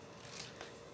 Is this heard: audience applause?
no